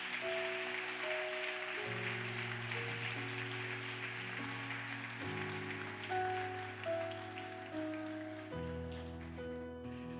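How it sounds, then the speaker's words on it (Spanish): Congregation applause in a Spanish-language Pentecostal church service, a steady crackling wash running the full length under sustained organ or keyboard chords. "¿Cuántos dan un fuerte aplauso al Señor?"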